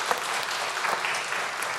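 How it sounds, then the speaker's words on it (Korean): A church congregation applauds at a Sunday worship service, giving a short burst of steady, dense clapping from many hands that fills the room throughout. "우리 박수로 환영하도록 하겠습니다"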